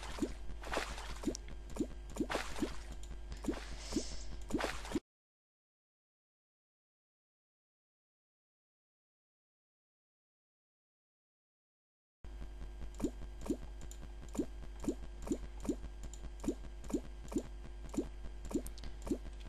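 Water being poured in Terraria comes as repeated soft plopping and squishing liquid blips over a low steady hum, in two stretches broken by a long silent gap.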